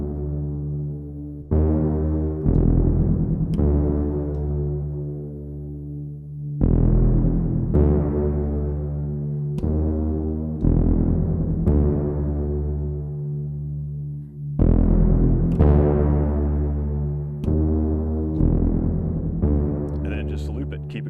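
Looped music played through a Boss looper, bass chorus adding a rippling wobble and reverb giving an echoey tail, with sustained tonal layers that restart in repeating phrases every few seconds at steady loudness, no voices.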